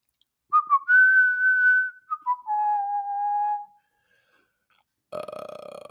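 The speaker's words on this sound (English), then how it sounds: "When I start whistling, nothing good's coming after." A man whistles a short melodic tune, several sustained and sliding notes over a few seconds, close and clear, then a brief burp-like sound at the end.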